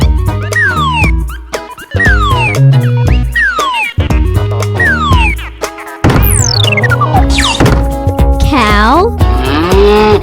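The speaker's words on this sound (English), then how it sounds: "cow," Cow mooing in a children's farm-animal song, several drawn-out moos set against a bouncy musical backing, closing with springy cartoon sound effects.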